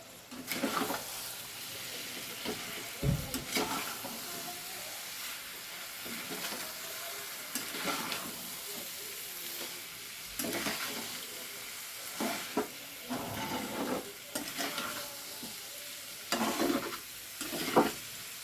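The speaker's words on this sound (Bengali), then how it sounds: "বাঁধাকপিটা অল্প অল্প করে দিয়ে আমি কিন্তু এটাকে কষে নেব" Shredded cabbage is stir-fried in a pan, a soft continuous sizzle broken by repeated scraping and stirring strokes at an irregular rhythm, close and fairly quiet, with no talking.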